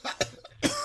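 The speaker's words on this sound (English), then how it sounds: "I'm coughing now too." Several quick, harsh coughs in a short burst, close by and moderately loud.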